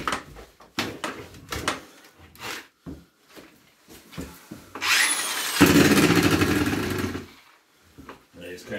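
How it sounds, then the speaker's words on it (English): A power drill whirs loudly for about two seconds while mixing pig feed in a feed room, bracketed by bursts of talking and clattering before and after. "Pull it up and down and kind of hand mix it, power mix it."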